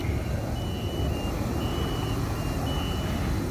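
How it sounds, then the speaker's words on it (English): A fire truck pulls out of its station, a steady heavy engine rumble filling the scene with a thin high tone running throughout, continuous and fairly close. "there's a fire truck going out"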